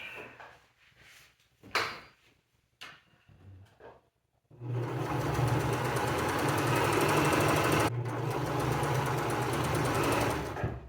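A sewing machine stitching a seam on a cosplay boot, a few handling clicks and knocks as the presser foot and needle come down, then a loud, steady whirring run of stitches broken by a short pause.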